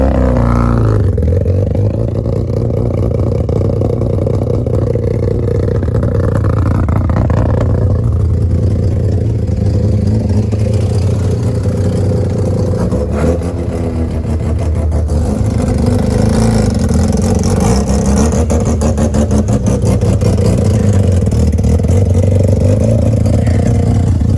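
A Mazda Savanna RX-7 FC, restored after fifteen years off the road, idles with its rotary engine running steadily and loudly up close. It rises into revs as the car starts to move off, with some clatter and scraping.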